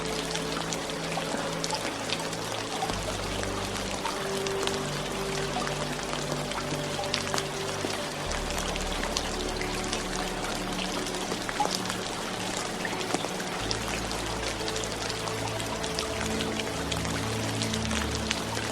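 Steady rain falling, a dense, even hiss of drops that continues unbroken throughout, with no voices.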